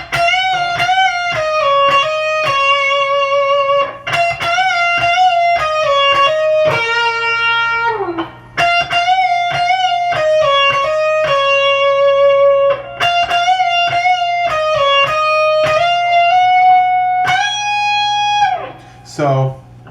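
Electric guitar lead line from a song, played near and loud with a distorted tone, sustained notes, slides and bends in a continuous melodic phrase, with short gaps between phrases.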